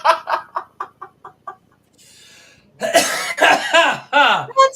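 A man coughs in a rapid series of sharp, rhythmic hacks that fade out, followed by a brief pause and then loud, strained throat-clearing coughs and wheezy gasps close to the microphone.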